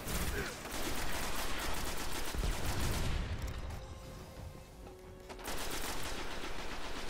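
Rapid automatic gunfire from the Destiny video game rattles on almost continuously, easing briefly midway with a faint tonal hum before the dense volley resumes at full loudness.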